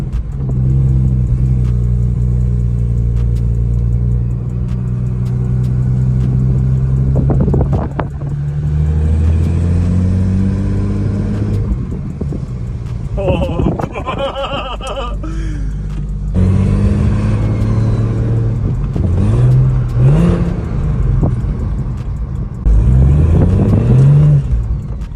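A BMW fitted with a big-turbo N54 engine drives on its first run, its deep exhaust drone rising and falling through repeated revs and gear changes, loud and close with wind buffeting, no talking.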